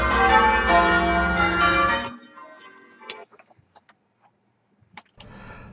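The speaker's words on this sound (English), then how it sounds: "Let's remind ourselves what our full peal of bells sounds like." Loud, dense ringing of a full peal of eight church bells for about two seconds, then cutting to near silence with scattered faint clicks and a brief return of ringing at the end.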